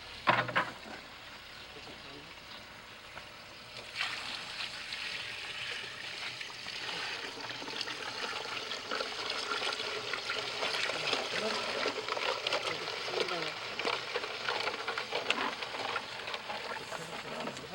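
Water splashes and pours steadily into a barrel holding jaggery, a broad continuous rush after a brief quieter start, fairly close.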